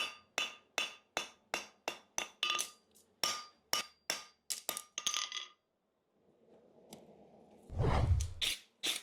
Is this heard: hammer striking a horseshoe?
yes